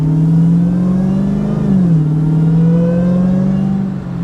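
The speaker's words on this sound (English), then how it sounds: "You guys, listen to this whine." Dodge Demon SRT V8 muscle car with a supercharger, revving so a loud, close high whine rises and falls over the engine drone, with one sharp dip midway.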